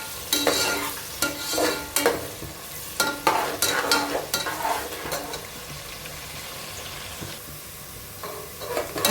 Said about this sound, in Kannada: ಸೊ ನಾವೆಲ್ಲ ನೀಟಾಗಿ ಈ ರೀತಿ ಅದನ್ನು ಫ್ರೈ ಮಾಡ್ಕೊಬೇಕು